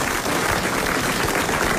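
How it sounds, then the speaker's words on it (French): A studio audience at the French radio show Les Grosses Têtes breaks into dense, steady applause, loud and close, with no pause across its short span. "Et il va avoir tout de suite droit à vos applaudissements."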